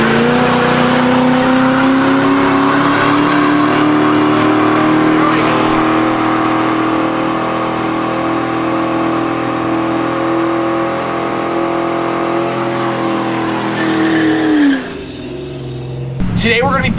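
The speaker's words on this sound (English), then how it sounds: "I just got this new device that's gonna let me do remote burnouts in my car" A worn Ford Mustang GT with a V8 and a manual gearbox holds a long, loud, sustained high rev during a burnout, the engine note steady and slowly climbing before it drops sharply near the end, with tire noise mixed in.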